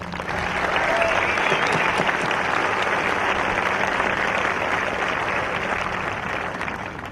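A commencement ceremony audience breaks into dense, sustained applause that fills the hall at an even, loud level throughout, with no voices standing out.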